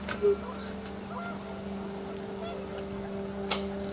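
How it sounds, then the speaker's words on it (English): Geese honk in the video game What Remains of Edith Finch, with one short, sharp honk near the start and a fainter call later, over a steady windy hum. "The wind picked up, and panicked geese appeared and quickly went."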